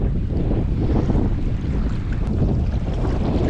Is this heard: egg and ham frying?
no